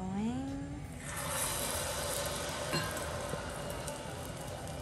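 Oil sizzles and crackles steadily as sea bream tempura fries, a loud continuous frying hiss after a brief tonal sound at the start.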